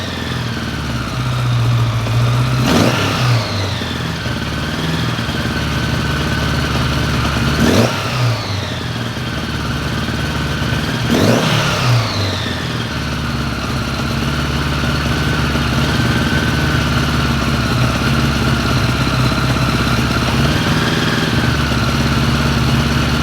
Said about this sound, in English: giving choke closes the air passages, so we're getting a little bit more fuel, so it idles at least for a little while